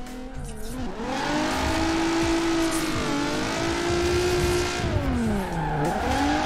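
A car drifting in Forza Horizon 4 sends a loud, sustained tire squeal wavering up and down in pitch as the engine drones underneath, with no talking.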